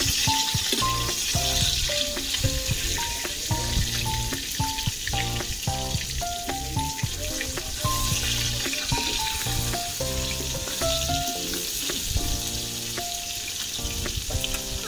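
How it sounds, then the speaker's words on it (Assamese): Loud, continuous crackling sizzle of fish frying in oil, close up, with melodic background music playing throughout. "বাকীখিনি মই এনেদৰে ফ্ৰাই কৰি আছোঁ"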